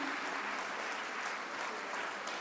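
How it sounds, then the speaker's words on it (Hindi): Steady applause from an audience at a Women and Child Development department event, even continuous clapping at a fairly quiet level with no speech on top. "आप सबकी तालियां जरूर इसके लिए जरूरी हैं"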